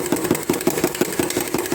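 Cream being whisked by hand toward soft peaks for whipped cream to go with French toast, heard as a fast, steady run of evenly spaced, close strokes with no talking.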